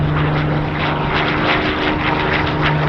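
A Hawker Hurricane 1 propeller fighter takes off at an airshow, its piston engine roaring loud and steady with a throbbing pulse, close and with no other sound.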